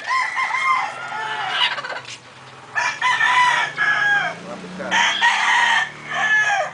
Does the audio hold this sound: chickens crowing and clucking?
yes